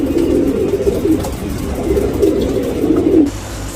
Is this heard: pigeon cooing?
yes